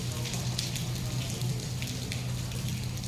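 Steady rain patters at a fishing port in Tamsui, Taiwan, a continuous hiss of drops on surfaces with a low rumble beneath, moderately quiet and unbroken throughout.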